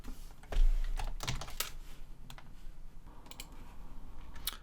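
Rapid clattering keystrokes on a computer keyboard, entering code for a Turbo Pascal 7.1 program on Windows 10, close and fairly loud with uneven bursts of clicks and brief pauses.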